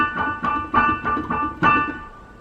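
Short musical passage played in a 1950s-style chord progression with triplet eighth-note rhythm, a run of evenly pulsed chordal attacks with a few stronger accents, moderately loud and with no talking.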